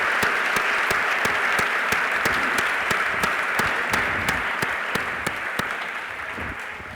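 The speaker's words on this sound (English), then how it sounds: "how about a big round of applause for Logan LaPlante?" A big round of applause from an audience honoring young speaker Logan LaPlante: dense, energetic clapping with sharp individual claps popping out, sustained for several seconds and easing slightly toward the end.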